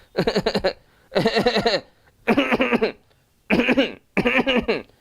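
A series of five short bursts of tickling coughs, each a rapid cluster of hacking spasms separated by pauses, demonstrating the cough associated with the homeopathic remedy Rumex; the coughing sounds voiced as an imitation.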